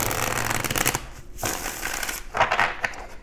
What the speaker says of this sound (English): let's go ahead and get a shuffle in here for you